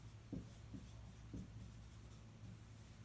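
Marker or chalk strokes on a board during a photography lecture, several short scratchy bursts with pauses between them, fairly quiet against a low room hum.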